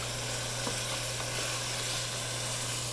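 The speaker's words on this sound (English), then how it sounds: "Can you hear the sizzle?" Steady, dense sizzling of chicken broth hitting a hot pan, continuous and close, with a low constant hum underneath.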